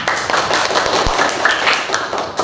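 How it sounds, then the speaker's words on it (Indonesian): Students in a classroom clap, irregular and fairly close, with scattered individual claps and taps rather than a smooth wash, plus a brief thump partway through. "Tepuk tangan."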